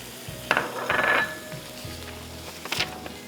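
Brown vermicelli tipped into a hot pan, giving a few bursts of sizzling and scraping stirs with quieter crackle in between, close up and with no talking.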